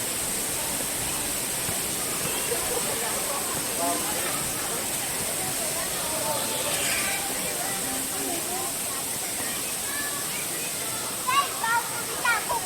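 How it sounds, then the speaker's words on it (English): Waterfall on DingHu Mountain, a steady broad rushing hiss of falling water hitting rocks, continuous and even throughout, with a voice speaking faintly over it. "there are many waterfalls in DingHu Mountain"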